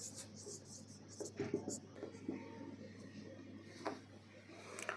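Pen or chalk scratching out a chemistry question, a steady faint scraping with brief pauses, under low room hum and a soft background voice.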